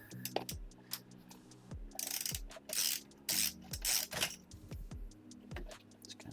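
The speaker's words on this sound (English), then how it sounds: "the front plate that I'm unscrewing at the moment" Screws being backed out of the front plate of a home PC case, which holds the motherboard in place: close clicking ratchet ticks and short whirring sweeps, with a few brief hissy bursts in between and no talking.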